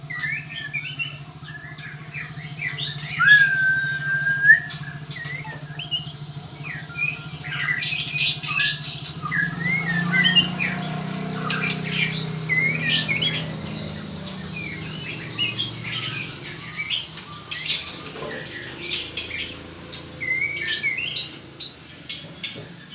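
Caged birds chirp and squawk on a drizzly morning in Jakarta, with scattered sharp calls and trills coming in bursts over a low background hum, moderately close.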